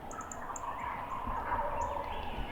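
Wild turkeys gobble in the distance outdoors, their faint rattling calls rising over a steady background hum, with high chirps of other birds scattered above.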